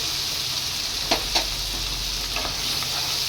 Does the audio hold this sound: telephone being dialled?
no